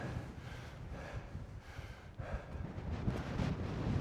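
Wind gusts buffet the microphone on open, exposed moorland at Bleaklow in the Peak District, a low rough rumble that swells and eases at moderate loudness with no voices.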